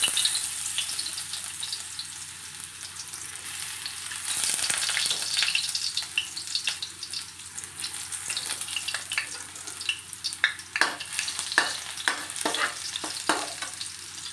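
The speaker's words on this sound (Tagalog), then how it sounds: "Una nating igisa ay garlic." Garlic sautés in hot oil at the start of a vegetable stir-fry, a steady close sizzle that grows busier toward the end with sharp spattering pops and stirring scrapes.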